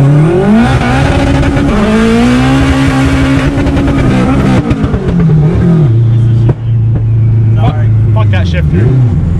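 An all-wheel-drive Honda launching hard on launch control with its tires spinning, the engine screaming loudly as it climbs through the revs, with a shift and more hard acceleration close up under excited talking.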